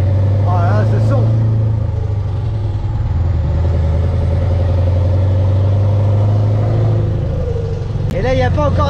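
A Scania V8 truck engine rumbles loudly and steadily throughout, its deep drone building as it pulls and accelerates, with someone talking over it.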